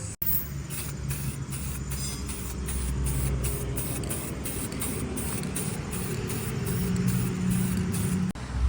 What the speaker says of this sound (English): Now I'm gonna lay down some paint and do this Extreme Chassis Black.